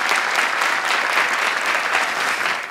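Sustained, dense applause from a studio audience at a Korean TV lecture contest show, loud and steady throughout, tapering slightly at the very end.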